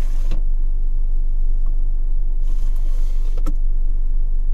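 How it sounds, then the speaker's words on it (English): A 2.0-litre Mazda MX-5 Sport Tech roadster idles steadily nearby, a constant low engine hum with a few brief clicks and whirs from the cabin on top. "engine's running as it has been all the way through"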